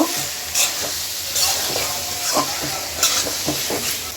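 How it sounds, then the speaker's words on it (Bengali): Shrimp stirred and fried in a pan of cooked-down spice paste for a jute-leaf curry, with a steady close sizzle and repeated sharp scraping strokes of the spoon at an uneven rhythm. "এখন চিংড়ি মাছটাও কষাই নিব।"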